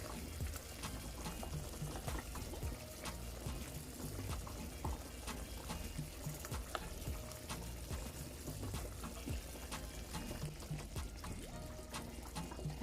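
Pan-seared salmon basted with garlic and herbs in a hot pan gives a steady, dense sizzle and spatter of oil that runs unbroken at an even level, with no talking.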